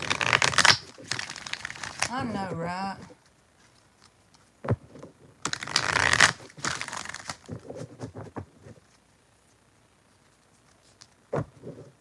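Tarot cards are shuffled in two riffling bursts, one early and one midway, close to the microphone, with a person talking in between and light handling taps afterward.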